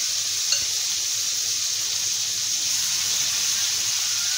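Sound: marinated chicken pieces frying in hot oil

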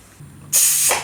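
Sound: pressure cooker whistle releasing steam

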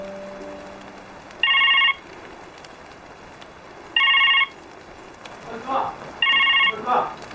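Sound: telephone ringing

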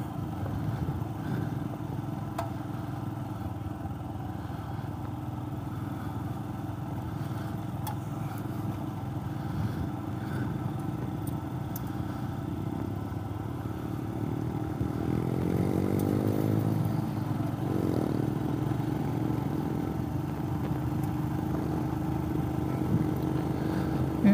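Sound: Himalayan motorcycle with sidecar riding over rough road

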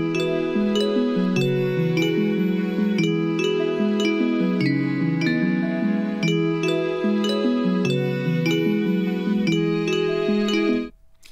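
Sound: Christmassy bells in a song

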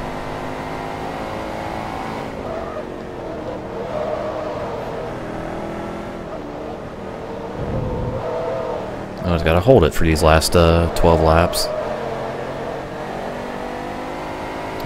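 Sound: race car engine in video game Forza Motorsport 2

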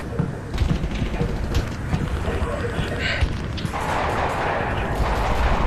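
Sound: gunshots in Half-Life: Alyx video game

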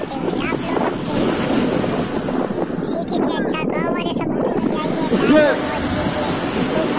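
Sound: sea waves rolling in while bathing

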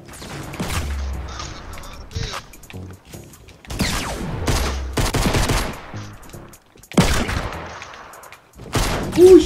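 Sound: gunfire in the video game Fortnite

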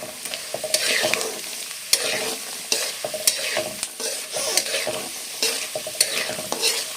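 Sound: peanuts frying in a pan

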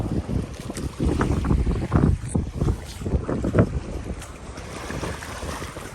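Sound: strong wind

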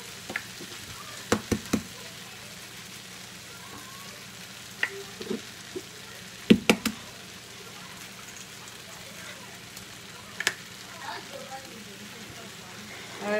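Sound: eggs frying with izote flower in a pan

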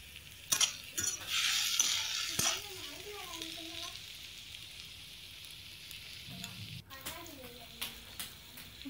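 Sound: curry leaves sizzling in pan with onion and tomato

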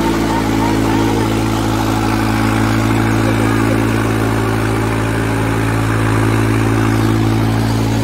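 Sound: New Holland 3630 tractor engine running

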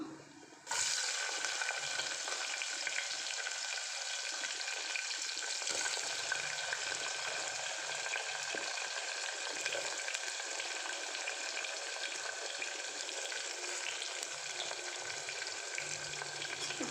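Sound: onion frying in hot oil for paneer pulao

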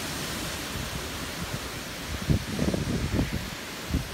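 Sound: strong wind from a tropical storm rustling trees

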